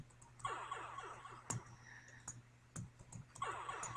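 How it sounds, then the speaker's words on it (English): Rapid bursts of computer keyboard typing and key clicks come in short flurries separated by sharp single taps, fairly close but quiet, with a faint steady hum underneath and no talking. "Like smashing the keyboard."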